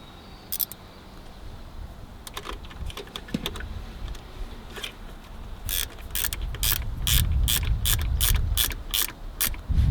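A ratchet wrench snugs down a car battery cable terminal, sounding first as scattered clicks and then as a fast, loud run of sharp, close ratcheting clicks over low rumbling handling noise, with no talk.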